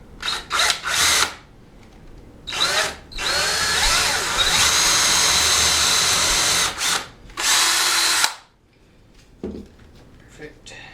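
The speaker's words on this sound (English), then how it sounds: "Going to drill the hole for the handle." A power drill bores a quarter-inch hole for a thin dowel handle through a wooden guide block. It comes in several loud, close bursts of whirring, with one long sustained run, then winds down to quiet.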